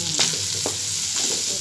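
Food is stirred in a hot frying pan, with a few scraping strokes of the spoon over a steady, close sizzle and no talking.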